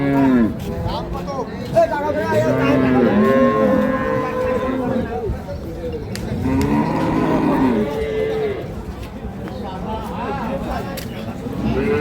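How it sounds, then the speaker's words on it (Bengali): Cows mooing at a village cattle market where dairy cows with calves are sold, with several long, loud, close moos in sequence, under and between people talking nearby. "দেখি আরো"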